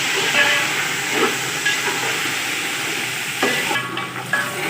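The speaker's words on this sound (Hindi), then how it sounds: "अब हम बीफ ऐड करेंगे। हल्का सा फ्राई कर लेंगे इसे भी।" Beef sizzles in a pan with golden fried onions for Kabuli pulao, a loud, steady hiss of frying broken by a few stirring scrapes, close up.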